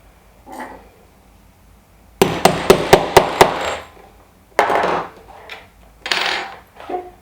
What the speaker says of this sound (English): you're going to give it one big hammering.